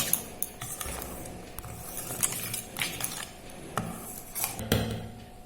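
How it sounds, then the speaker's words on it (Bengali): Mango fritter batter of flour and sugar being stirred in a bowl, a steady close scraping with intermittent clinks of a spoon against the dish, moderately loud and without voices. "এবার মিশ্রণটা আগে ভালো করে মেশানো হচ্ছে"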